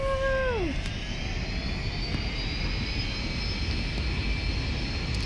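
Airbus A320 engines in the X-Plane 10 game spool up for takeoff, a steady loud jet roar with rising high whine tones throughout; a brief falling tone chimes at the very start.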